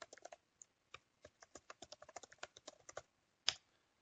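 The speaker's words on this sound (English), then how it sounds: "I would type in Richard's details" Keys clatter on a computer keyboard while user details are entered into project management software, a quick irregular run of close, crisp clicks ending in one sharper, louder keystroke.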